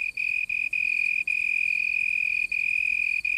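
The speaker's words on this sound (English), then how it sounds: "To advertise for a mate, the male cricket has developed a system comparable to a loudspeaker, where a vibrating membrane, his wings, is surrounded by a baffle." A male cricket calling from a leaf on an African night keeps up a loud, close, continuous high-pitched trill, broken only by a few very brief pauses.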